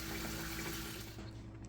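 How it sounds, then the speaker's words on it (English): Water pours steadily into a pot being readied for canning blackberry jam, a continuous rushing splash that tapers off near the end. "Let's add some more water."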